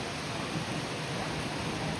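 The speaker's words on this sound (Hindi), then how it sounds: "हमें मालूम नहीं था बाहर इतनी तेज बारिश हो रही है" Heavy rain pours steadily outside, a dense, even hiss of drops that runs unbroken from start to finish without any voices.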